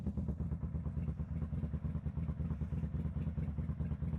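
Kawasaki VN800 bobber motorcycle engine idling with a suspected vacuum leak, a steady close low-pitched rhythmic putter with mechanical clatter, no talk.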